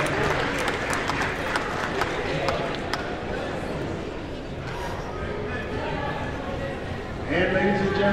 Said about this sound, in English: Big round of applause for Shane Snyder.